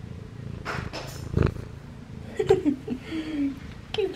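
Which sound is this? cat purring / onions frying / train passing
cat purring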